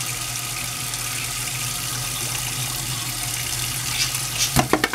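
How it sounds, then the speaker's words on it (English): Water runs steadily from a tap as deep conditioner is rinsed out of hair, a constant close hiss with a few splashes and knocks near the end. "I can tell her hair is well deep conditioned, and it's time to rinse all that out"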